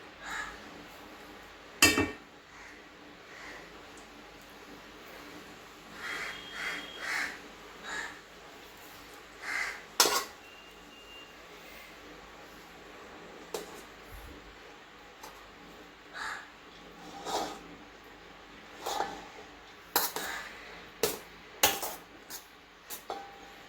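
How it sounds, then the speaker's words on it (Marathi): Cooked rice added to a pot for chicken biryani, with intermittent clinks and scrapes of a metal spoon against the pot at irregular intervals, close and fairly faint, some louder knocks, no talking. "आता आपण भात टाकून घेऊयात"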